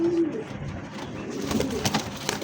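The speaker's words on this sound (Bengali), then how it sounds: "খুব সুন্দর একটা রেসার কবুতর নর" A male racer pigeon coos close by, a low soft throaty call at the start followed by quieter murmuring over a busy background of other birds and faint noise.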